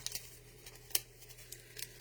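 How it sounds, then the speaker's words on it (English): Paper is crumpled by hand for a worn look, giving faint, scattered crinkles and a few sharper rustles close by, quiet and alone. "Crumple it up to give it some more worn look."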